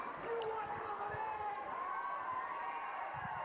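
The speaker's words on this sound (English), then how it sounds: "Fans definitely behind Hyson in this match, and listen to them cheering for him" A wrestling crowd at a TNA house show cheers for Hyson, a steady wash of distant cheering and shouting that holds at an even level throughout.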